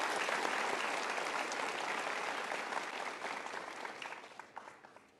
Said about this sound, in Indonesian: Kita berikan tepuk tangan sekali lagi untuk sahabat-sahabat super kita.